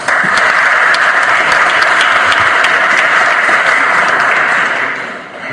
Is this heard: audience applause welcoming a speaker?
yes